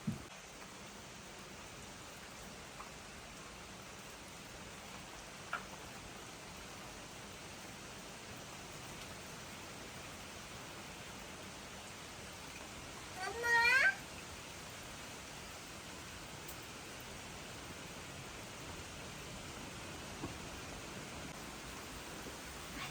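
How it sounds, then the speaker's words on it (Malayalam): Constant hiss of heavy rain pouring down, even and unbroken, with a brief faint squeak partway through. "ആ മഴയുടെ ശക്തി പിന്നെയും കൂടിക്കൊണ്ടിരിക്കട്ടോ"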